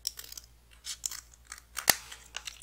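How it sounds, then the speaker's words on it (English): Scissors snipping away a strip of paper for a scrapbook bellyband, a series of close, crisp cuts in an irregular rhythm with one sharp louder snip near the end, no talking. "I'm going to cut that away because we don't need it"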